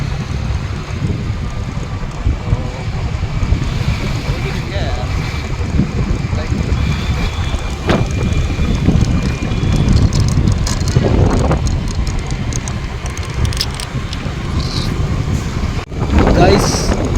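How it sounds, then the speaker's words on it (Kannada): Motorbike ridden uphill toward Mullayanagiri peak in Chikkamagalur, with steady loud wind buffeting the microphone and a low engine rumble running throughout, no talk heard. "ನಾನು ಬೈಕ್ ಓಡಿಸ್ತಾ ಇದ್ದೀನಿ"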